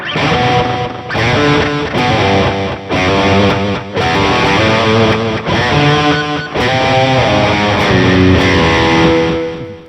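Heavily distorted electric guitar through an Audio Assault Emperor amp sim with a delay effect, metal chords ringing out with echoing repeats, loud and continuous with brief gaps between strums.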